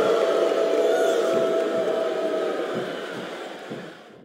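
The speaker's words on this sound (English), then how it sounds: "listen to that chant, Taz." A wrestling arena crowd in WWE SmackDown vs RAW 2007 chants loudly in a sustained, droning roar that slowly fades toward the end, with no talk over it.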